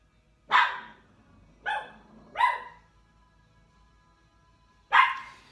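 A dog barks four times, loud and close, three quick barks followed by a pause and one more bark.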